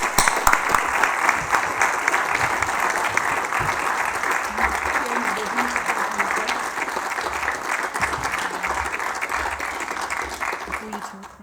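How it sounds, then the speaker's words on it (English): An audience at an academic association's annual general meeting applauds an honorary life membership recipient, dense sustained clapping that holds steady for several seconds before tapering at the end. "Please give him a round of applause."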